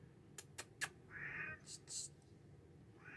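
A pet cat cries out in a string of short and longer meows close by, with a few sharp clicks or taps before and quiet pauses between calls.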